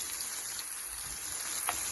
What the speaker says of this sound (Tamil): இப்போ நம்ம ப்ரொக்கோலியை சேர்த்துக்கோங்க.